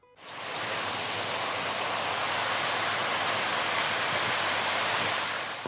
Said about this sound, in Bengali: ভোর থেকে নাগাড়ে বৃষ্টি